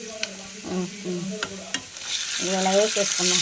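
Small bitter gourds drop into a pan of frying food, raising a steady sizzle that swells louder toward the end, with a few sharp clicks of a utensil and a voice talking over it.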